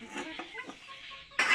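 A chicken clucks close by in a rural yard kept with goats: a few short, throaty clucks, then a louder squawk at the end.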